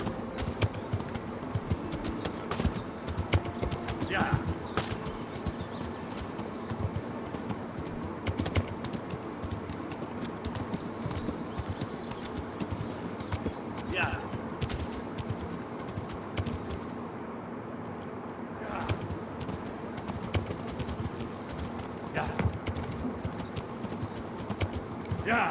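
Horse hooves clip-clop steadily in the video game Kingdom Come Deliverance, a continuous close rhythm of hoofbeats with occasional flutters and someone talking over it.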